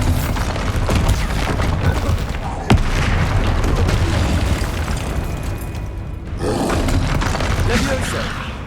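The Bombarda exploding spell in Hogwarts Legacy: heavy roaring blasts with booming rumble across several seconds, with talking over them.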